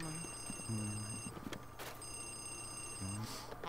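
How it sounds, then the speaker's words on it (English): An old telephone ringing inside a haunted mansion in the GameCube game Luigi's Mansion, two repeated bursts of trilling bell tone separated by a pause, with a low electronic hum and brief game noises in between. "Why is the phone still ringing?"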